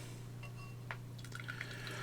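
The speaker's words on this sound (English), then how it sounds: "let's pop this top. See what we've got. We'll pour her in the glass." Athletic Brewing Co. McCall's Flask Athletic Lite non-alcoholic beer pours into a glass, a soft, quiet trickle with a few faint drips and fizzy splashes over a low steady hum.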